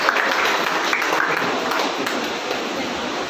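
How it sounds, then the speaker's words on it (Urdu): Church congregation applauding at a Sunday service, a steady dense wash of clapping held at even loudness throughout with no pauses. "آپ کی بھرپور تالیوں میں میں پاسیانو گیم کو دعوت دوں گا"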